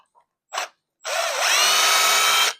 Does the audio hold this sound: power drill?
yes